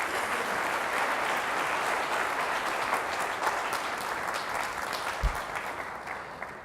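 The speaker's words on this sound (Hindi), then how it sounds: "जोरदार तालियों से खुदावंद के नाम पे जवाब दीजिए" A church congregation breaking into loud, sustained applause, dense clapping from many hands filling the room at close range and tapering slightly toward the end.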